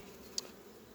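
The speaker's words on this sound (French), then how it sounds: "Il y a de l'abeille." Honey bees around beehive frames in a nucleus hive give a faint, brief buzz that swells for a moment and fades against a quiet background.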